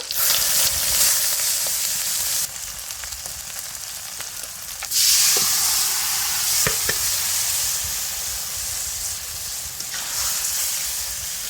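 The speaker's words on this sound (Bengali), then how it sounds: "লাল লাল করে ভেজে নেবো" Food frying in a pan until reddish, a steady loud sizzle and hiss that carries on throughout, with a few faint stirring knocks and no talking.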